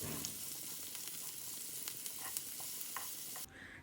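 Finely chopped onions with salt sautéing in oil in a pan, a faint, steady sizzle with light scraping stir strokes that stops abruptly near the end, and no talking.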